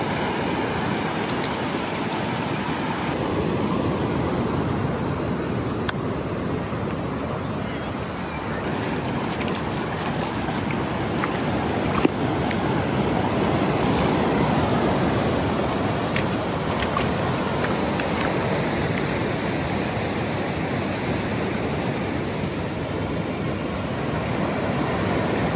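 Ocean waves wash steadily onto a beach on a chilly day, a continuous rushing surf mixed with gusty wind buffeting the microphone, broad and unbroken throughout.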